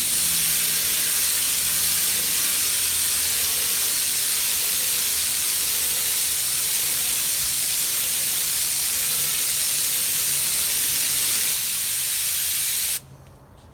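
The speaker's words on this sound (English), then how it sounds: "Because I'm spraying at a higher pressure" Steady, loud hiss of a Harbor Freight HVLP paint sprayer laying down DIY clay-based paint at higher pressure, running continuously with no talk before cutting off near the end.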